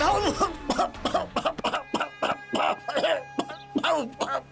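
A man with a heavy cough and cold coughs hard and repeatedly in a scene from a Bhojpuri film, a long series of loud, rapid, rasping bursts with short gasps between them.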